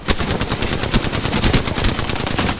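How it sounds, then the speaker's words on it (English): Rapid automatic gunfire in the battle-royale shooter Apex Legends, loud and dense bursts of shots crackling continuously with no gaps, no voices over it. "Being shot at. I'm under fire."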